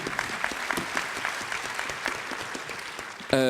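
Steady applause from a crowd, dense clapping throughout, ending with a brief burst of a different sound.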